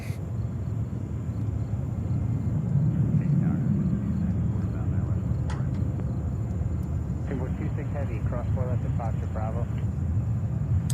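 A JetBlue airliner at JFK airport rumbles steadily at a distance, a broad low roar that continues throughout while a person talks over it.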